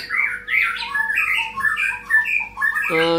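A murai batu (white-rumped shama) with a black tail calls in a loud, close run of varied squawks and whistled phrases, ending in a brief harsh chatter.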